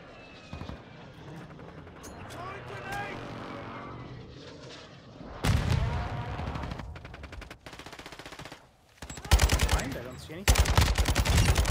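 Gunfire in a Call of Duty match, with scattered single shots early on, then loud bursts of automatic fire in several rapid volleys, under aircraft-like engine noise.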